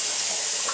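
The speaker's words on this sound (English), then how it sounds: "I run the hottest water I can" Hot water running hard from a tap, a steady close hiss and splash with no pauses, filling a container for a pet carpet cleaner.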